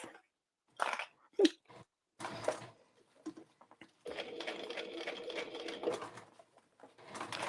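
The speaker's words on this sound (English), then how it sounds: "So I'm sewing this just under 6 mil, so it's just on the inside of my stitching" A sewing machine stitches an emo circle bag in short bursts of rapid mechanical clatter, then a longer steady run, with clicks and handling noises in the quiet gaps.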